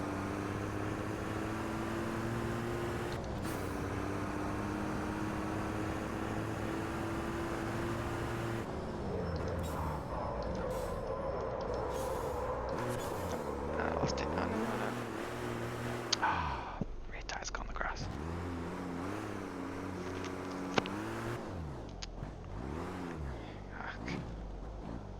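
COPA racing truck engine from Automobilista 2 roaring through a fast practice lap, steady loud drone with rising and falling pitch through gear shifts and corners, occasional sharp clunks.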